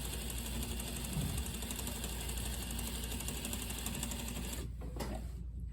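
A sewing machine edge-stitches fabric a quarter inch from the edge, humming with a steady rapid mechanical needle chatter close by, then falls silent near the end.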